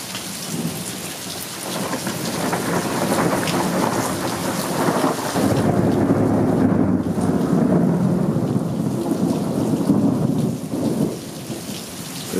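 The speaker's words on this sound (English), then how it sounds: "Ooh, that was good thunder." Thunder rolls through a heavy thunderstorm, deep rumbles swelling and fading over continuous loud rain pattering on surfaces, with no voices.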